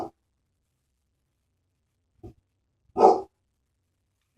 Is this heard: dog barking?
yes